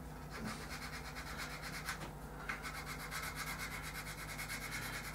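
Sandpaper rubbing steadily along the trailing edges of model aircraft wings, a continuous close scratchy rasp with rhythmic strokes and no talk.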